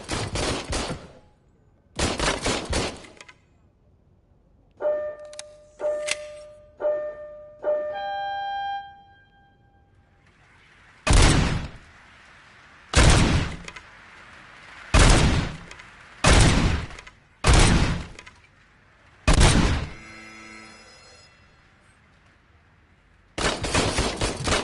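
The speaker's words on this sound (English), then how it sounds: "Oh, this is the shooting range." Gunfire at a shooting range in RoboCop: a series of loud, sharp shot bursts separated by pauses, with ringing tonal beeps between some volleys, heard clearly without talk.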